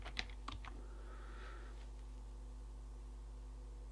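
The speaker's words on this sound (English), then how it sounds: "Okay, I'll type hello again." A computer keyboard is typed on during a live chat, a short burst of several quick, close keystrokes at the start, then only a faint steady hum remains.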